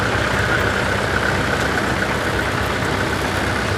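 Several tractors at a Red Power show run together, towing a chained string of toys behind, a steady rumbling engine drone at close range with no break and no voices.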